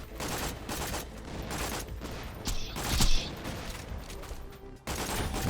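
Enemy turrets and weapons firing in a Borderlands game on a Saturn-like battlefield, rapid crackling bursts of shots, fairly close and moderately loud, with a brief sharp blast midway and someone talking over the action.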